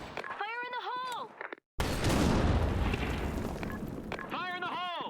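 A loud grenade blast in the shooter game Blackshot on the Sand Storm map, a sudden deep boom with a long rumbling tail, bracketed by spoken voice lines before and after.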